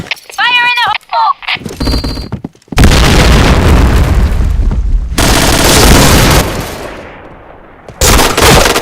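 Grenade blasts and gunfire in the shooter game Point Blank, with loud booming explosions and rapid bursts of shots that roll away into fading rumbles, followed by more blasts.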